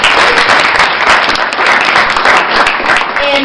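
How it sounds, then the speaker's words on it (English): Loud, sustained applause from a conference audience at a Transatlantic Inclusion Leaders gathering in Copenhagen, greeting an elected Danish Parliament member, a thick, continuous wash of clapping close by. "we definitely need to give her a round of applause"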